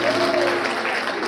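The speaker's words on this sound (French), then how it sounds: "Vos applaudissements." Conference audience in Paris applauds, a brief burst of clapping with a voice talking over it and a faint tonal sound sliding underneath.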